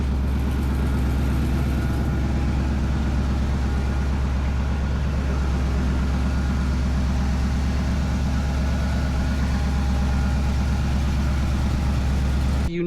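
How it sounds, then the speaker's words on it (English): A GMC RV engine idles steadily and alone, a constant low rumble with an even mechanical hum, holding unchanged from start to finish at close range. "I just want you to kind of listen to the engine"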